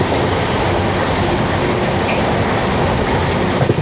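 Steady loud rumble and roar of the 12675 Kovai Express, an Indian passenger train from Chennai Central to Coimbatore, running fast past the Samalpatti station area near an open door, with a continuous dense wind-and-wheel din and no speech.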